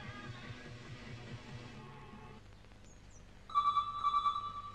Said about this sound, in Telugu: కింద ఫోన్ మోగుతుంది.